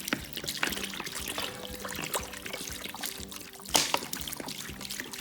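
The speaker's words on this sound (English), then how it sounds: "And onto that I add some water." Water is poured into a pot for a cassava-leaf fish stew, a steady trickling splash that runs throughout with a few clinks and louder bursts.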